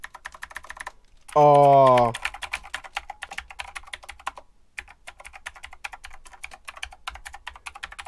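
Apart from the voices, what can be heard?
typing on a computer keyboard with tall keys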